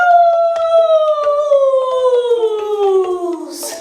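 A human voice imitates a wolf howl, a single long tonal wail that slides gradually downward over several seconds, close and clear, with faint clicks underneath.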